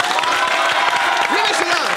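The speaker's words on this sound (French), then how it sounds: "on applaudit le public" A studio audience at a French entertainment show claps in a dense, continuous burst, with a voice briefly audible over the applause.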